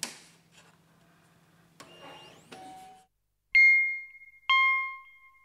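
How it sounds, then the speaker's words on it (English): A printer powering on after being switched on, with a low hum, a few clicks and mechanical whirs, then two bright electronic tones ringing out in sequence. "Turn on the printer."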